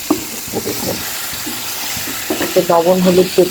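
Taro stem greens sizzle and crackle in hot oil in a frying pan as they are stirred, a steady frying hiss with bursts of scraping, while a voice talks over it.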